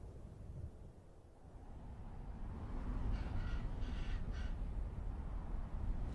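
A raven calls outdoors in open North American sagebrush country, several caws at moderate distance sounding over a soft breezy background with no voices.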